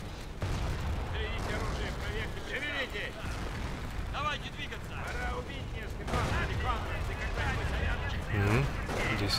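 Artillery and gunfire boom through a Company of Heroes: Tales of Valor battle at Omaha Beach, a dense, continuous rumble of blasts under steady talk.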